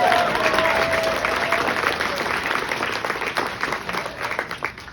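An audience applauds at a gathering for speakers, with dense, sustained clapping from a crowd filling the room at a steady, fairly loud level, fading a little toward the end.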